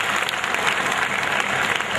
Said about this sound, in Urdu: please clip